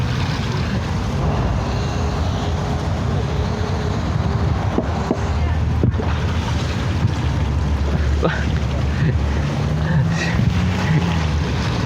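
An amphibious car rolls into water and starts floating, giving a steady wash of splashing and churning with a low motor drone underneath, broken by a few faint knocks and creaks.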